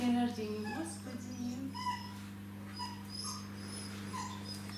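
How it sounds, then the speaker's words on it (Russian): A poisoned shelter dog, now recovering, whimpers in faint, thin whines over a steady electrical hum while people talk nearby. "А давно вы знаете эту собаку?"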